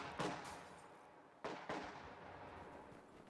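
Infantry trade gunfire in a real-time strategy game, conscripts under fire from grenadiers, a few faint sharp shots cracking at a distance with brief echoing tails, no talk.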